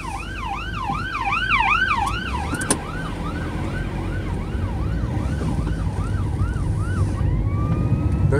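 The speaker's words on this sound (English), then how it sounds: "Let's just find out where this fire engine's going." A loud fire engine siren wails, sweeping up and down repeatedly, then settles into a slower wail as the fire engine passes, with traffic rumble underneath.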